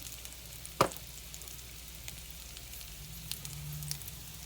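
Potato frying in a preheated hot skillet, a faint steady sizzle with a sharp clatter near the start and a few small taps later.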